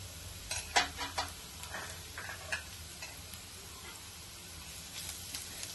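Turmeric and masala spice mixed into a marinade in a bowl, heard as faint, scattered scraping and clinking strokes over a low steady background hum, with no voices.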